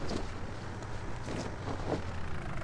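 An old small tractor with no front loader drives along in Farming Simulator 19. Its engine gives a steady low drone under a wind-like hiss, with no pauses and no talking.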